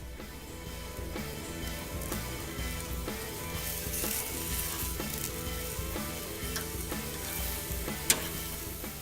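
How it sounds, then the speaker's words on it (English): Steady sizzling of boneless pork chops on a hot grill, a constant crackling hiss with faint rhythmic background clatter and one brief sharp tick near the end. "Love that sizzle."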